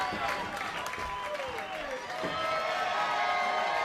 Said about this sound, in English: And the crowd is fired up here in our main event.